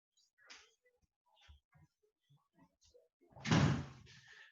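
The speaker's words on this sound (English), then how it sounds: "So I'm just going to shut the door." An interior door is pushed shut with a single firm thump near the end, preceded by faint scattered handling noises and soft clicks in a quiet room.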